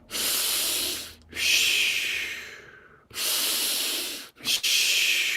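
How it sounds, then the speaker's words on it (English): Circular breathing during a breathwork exercise: long, forceful hissing breaths through the mouth, loud and close, in a repeating cycle with brief pauses and a quick gasp between strokes, no talking. "Circular breathing now."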